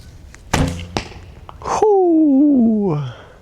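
Longbow arrow released on shot one at a target range, with a sharp thunk and thud of release and impact followed by a rising whoop-like voiced sound trailing off.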